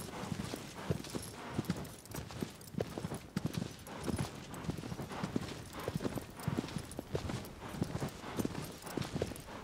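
Horse hooves clip-clop steadily in Shadow of the Colossus on PS4 as the horse crosses open ground, a continuous rhythmic galloping beat at close range with no voices over it.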